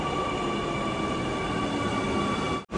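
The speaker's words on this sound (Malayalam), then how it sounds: "ഇവിടെ നിന്ന് ഇനിയിപ്പോൾ പോകാനുള്ള മെട്രോ എത്തിരിക്കുകയാണ്" A Kochi metro train at Town Hall station gives a steady, close rumble with a high whining tone held throughout, ending in a brief dropout.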